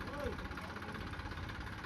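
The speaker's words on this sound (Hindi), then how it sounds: "आज छुट्टी है, थ्रेसर आया हुआ है" A threshing machine engine runs in a farm field with a tractor and trolley nearby, giving a low, steady mechanical drone beneath people talking.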